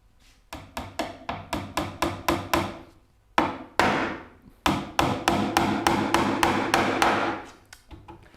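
Nails hammered into a wooden cabinet box for a rolling cabinet base: sharp, close wooden blows in quick rhythmic runs, a short pause, then two heavy single strikes and another long steady series of taps.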